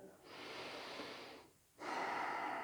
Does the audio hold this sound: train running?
no